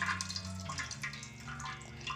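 Water dripping from soft chhena curds hung in cloth to drain for rasmalai, with scattered soft drips and trickles over a steady low background hum, fairly close and quiet.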